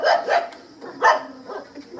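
A dog barks in short, sharp bursts, close and loud, with a few yips spaced over the moment and no talking.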